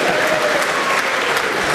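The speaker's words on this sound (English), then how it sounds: "that's the first time I've heard a big round of applause for somebody leaving the arena on his own" A snooker arena crowd at the Masters applauds a spectator walking out, loud, sustained clapping filling the hall without a break.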